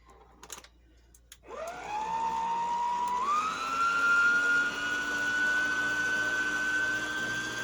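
Electric mixer whirring through pie filling, a motor whine that starts abruptly and rises in pitch as it speeds up, then holds a steady loud drone to the end without talk.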